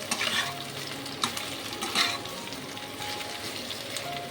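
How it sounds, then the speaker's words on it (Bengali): Boiled, cut potato pieces are stirred into hot oil in a pan, frying with a steady sizzle and scraping stir strokes, close and alone with no talk. "এইবারে দিয়ে দেবো আলু। আলুটাকে সেদ্ধ করে আর টুকরো করে কেটে নিয়েছি"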